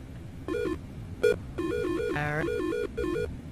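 Electronic telephone ringing inside the Silent Hill Shattered Memories video game, a repeating trilling tone in several bursts with short gaps, fairly loud and close, with no talking over it.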